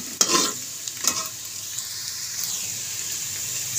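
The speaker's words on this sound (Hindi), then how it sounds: "घी में भी फ्राई करेंगे 5 मिनट" Bitter gourd frying in ghee gives a steady bright sizzle, with a few stirring scrapes and clatters near the start, close and alone.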